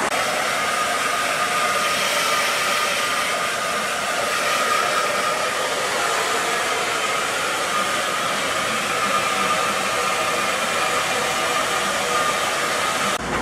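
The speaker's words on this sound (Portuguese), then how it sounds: "acabei de passar o secador" A hair dryer runs continuously at home while someone dries their hair, a steady loud whooshing blast with no breaks and no talking.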